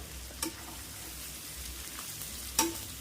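Chicken pieces tossed with chicken masala and cumin powder in a pan for a gongura chicken fry, a low steady sizzle punctuated by two sharp spatula scrapes against the metal.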